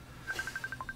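Telephone keypad dialing tones, a quick run of about eight short, evenly spaced beeps, moderately loud over faint room noise.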